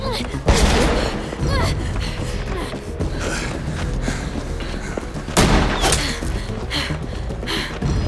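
Gunfire in The Walking Dead: The Final Season, Episode 2 "Suffer the Children," with two loud broadband bursts near the start and again later, over a busy, rumbling game soundscape with continuous low mechanical noise.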